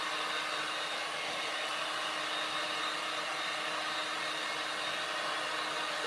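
A handheld dryer blows on a homemade DIY Christmas table riser, giving a constant, even airy whir with no break for about six seconds, close by and alone with no voices.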